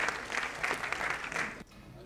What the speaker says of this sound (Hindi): एक बार जोरदार तालियों से हमारे विधायक घनश्याम सर्राफ जी का स्वागत करें।